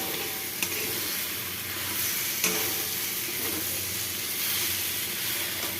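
Vegetables sizzle and are stirred in a hot pan in a home kitchen, a steady frying hiss with a couple of sharp utensil clinks, close and continuous with no talking.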